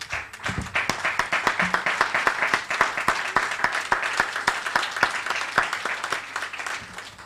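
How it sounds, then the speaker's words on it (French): A church congregation applauds at a Sunday thanksgiving service, a steady stream of close, dense hand claps with a rhythmic pulse running through them, filling the room for several seconds. "Rendons grâce au Seigneur par les acclamations et les actions de grâce"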